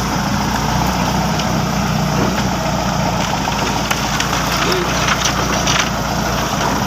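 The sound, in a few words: tractor engine idling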